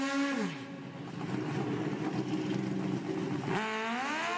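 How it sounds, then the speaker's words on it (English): Pro Ultra 460 drag racing motorcycles rev hard through their burnouts at a drag strip. A sustained, loud engine roar dips at the start, holds through the middle and then climbs sharply as the revs rise at the end. "All right, bikes are started, burnouts are in action."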